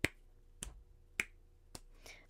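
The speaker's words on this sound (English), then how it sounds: "tell me how many snaps you hear off screen." Four or five crisp finger snaps spaced about half a second apart, sharp and close against a quiet, faintly humming background, with no voice.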